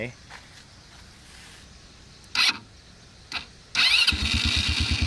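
An ATV engine fires up after a full service with new piston parts, a brief cranking burst followed by a loud, steady rapid idle rumble near the end; quiet room noise and faint handling sounds come before it.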